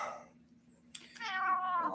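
A kitty meows indoors, close and clear. A short call is followed by a longer, drawn-out, rising-and-falling meow.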